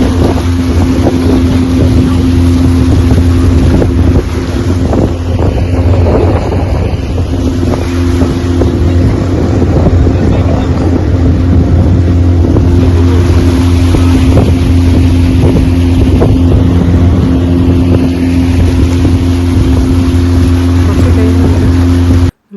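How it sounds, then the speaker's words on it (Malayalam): Steady loud drone of a motorboat engine under way on a lake in Kerry, Ireland, with wind buffeting the microphone and water rushing continuously throughout. "ഇതാ ബോട്ട് വന്നു"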